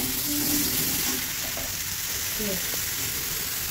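Chili paste and spices fry in a pan with a loud, steady, close sizzle of hot oil. A few faint clinks and a soft background voice come through briefly.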